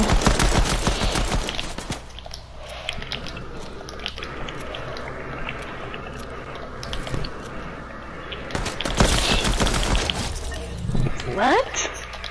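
Pistol gunfire in a video game, bursts of sharp shots crackling under frequent talk from players chatting over the action.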